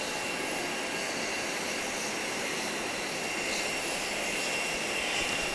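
A United airliner sits close by at Grand Cayman airport, its engines giving off a steady, loud broadband roar with a faint high whine that holds throughout and swells slightly near the end.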